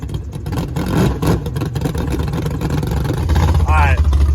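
Ripsaw luxury tank with a Duramax diesel engine rumbles steadily up close and builds toward the end, with someone talking over the engine noise.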